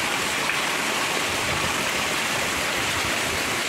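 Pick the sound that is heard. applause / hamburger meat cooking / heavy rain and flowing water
heavy rain and flowing water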